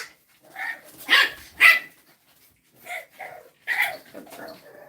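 French Bulldog puppy barking in short, sharp bursts, a pair of close yaps followed by a few softer barks and another yap, loud and near with quiet gaps between.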